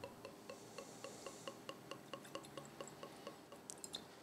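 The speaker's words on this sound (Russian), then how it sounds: "это звонкий звук при наливании" White Rioja wine made from Viura grapes is poured into a glass, a faint steady trickle with regular small clinking ticks, quiet and close, without any voices.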